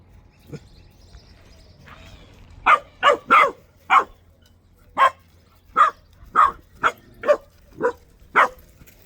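A dog barks about a dozen times in a fairly steady series of sharp, close barks, with quiet gaps between them.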